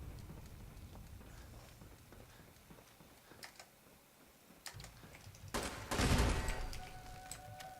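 In the game Fallout, a turret inside a bottling plant fires a short, loud burst of shots near the end, after a quiet stretch with faint keyboard tapping and scattered clicks.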